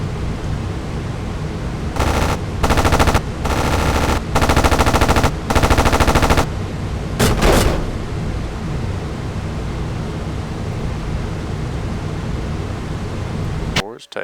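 Machine gun fire from the top turret gunner of a bomber in the flight combat game Aces High 2, with several loud, close bursts of rapid fire over a constant engine drone, followed by a brief final burst and then only the drone.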